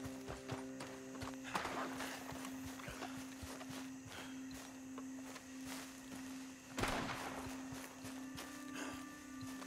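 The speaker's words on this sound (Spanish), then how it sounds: "Esto es un puta caballo, hermano." Horse hooves clip-clop in the video game Red Dead Redemption 2, a soft steady rhythm of hoofbeats under a constant game tone, with a few louder thumps and little talk.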